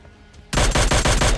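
Rapid automatic gunfire in PUBG Mobile Lite from an M4 and DP combo, a loud burst of about six close shots fired in quick rhythm after a brief quiet start.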